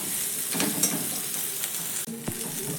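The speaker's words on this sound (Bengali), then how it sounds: "তো সব কিছু খুব ভালো করে মশলা ভাজা হয়ে গেছে।" Spices and washed curry leaves frying in a pan for a healthy breakfast dish, a steady close hiss of oil with a few scrapes and clinks of a spoon against the pan, no voices.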